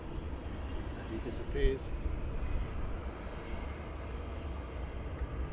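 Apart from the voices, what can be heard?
easyJet airliners taxiing at Luton Airport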